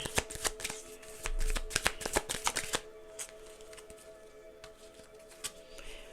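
Kipper cards riffled and shuffled close up in a fast flurry of crisp snaps, then slower, sparser card flicks and slides as cards are drawn.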